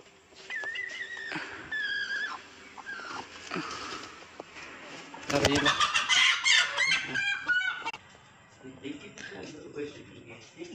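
Broody hens cluck and squawk up close in a village, with a burst of agitated flapping and cackling midway, while people speak nearby.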